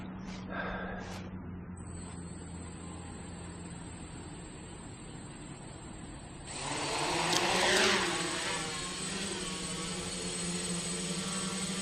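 Quadcopter hovering during a flight test over a soft outdoor area, a steady high motor whine that swells louder partway through and then holds, with no talk.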